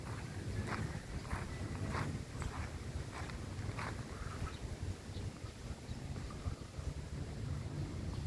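Gusty wind buffets the microphone outdoors on a rainy, windy day, a loud continuous rumbling roar with faint intermittent taps and rustles mixed in.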